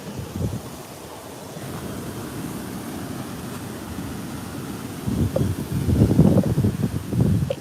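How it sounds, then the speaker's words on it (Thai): Cold wind blows outdoors in Italy, a steady broad rushing roar with microphone buffeting that grows stronger near the end, no talk. "ลมเย็นมาก"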